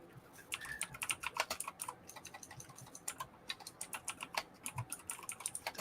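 Rapid typing on a computer keyboard, a steady dense run of close, crisp key clicks with no talk.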